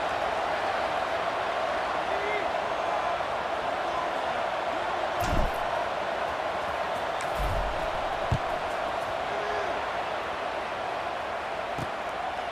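College football stadium crowd just before kickoff, a steady distant roar with occasional faint thumps and clatters, under a commentator's voice.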